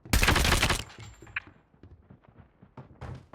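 Gunfire in the mobile shooter Call of Duty Mobile: a loud burst of rapid automatic shots at the start, then scattered quieter impacts, clicks and soft thuds trailing off.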